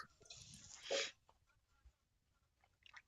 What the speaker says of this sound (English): Seriously, I got like sneezing fits today.